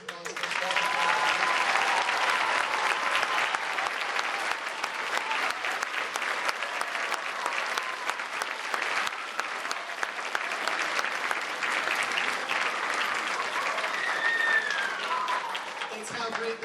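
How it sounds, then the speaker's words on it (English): An audience claps steadily at a school band concert. The applause is loud and sustained for about seventeen seconds, with faint voices underneath. "So how about a round of applause for"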